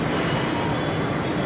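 A Delhi Metro Blue Line train at Akshardham Metro Station gives off a loud, continuous rumble and rushing wheel noise, close by and steady, with no talk.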